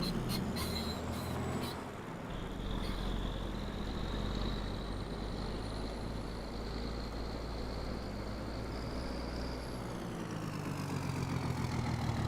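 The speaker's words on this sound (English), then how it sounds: "He moved his tractor." A tractor engine in Farming Simulator 22 holds a steady low rumble with a constant idle-like drone and a faint whining tone above it, running evenly without pause.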